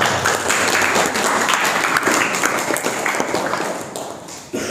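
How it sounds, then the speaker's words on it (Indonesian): An audience claps steadily at an Indonesian talk on NU, a dense, even wash of applause that carries throughout and tails off slightly near the end. "Tepuk tangan Mas Dawa."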